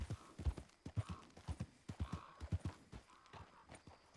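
Hooves clip-clop in a steady, even rhythm at a walking pace, fairly quiet and somewhat distant.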